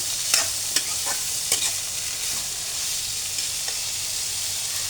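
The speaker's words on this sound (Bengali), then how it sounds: "আমি এটাকে আবারও 5 থেকে 6 মিনিট একটু তেলের মধ্যে ফ্রাই করে নেব" Rice mixed with peas and carrots fries in oil, a constant close hiss of sizzling punctuated by several sharp scraping stirs of the spatula, no voices.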